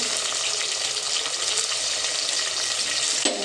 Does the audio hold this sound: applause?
no